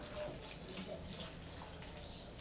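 Water trickles and splashes from a small pour onto freshly planted mint cuttings in soil, a soft, close, continuous gurgle lasting a couple of seconds with no talking.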